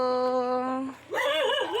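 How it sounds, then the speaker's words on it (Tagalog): A dog nearby lets out a long, steady whine followed after a short gap by a wavering, yelping howl. "May aso."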